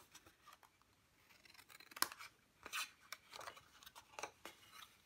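Scissors snip through paper, cutting gift pouch flaps at a slight angle; several crisp, close cuts with short rasping slides between, quiet and without speech.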